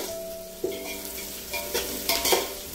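Onion pieces frying in a pan for Raju gari kodi pulav, with a steady close sizzle and a few louder stirring scrapes and bursts toward the end.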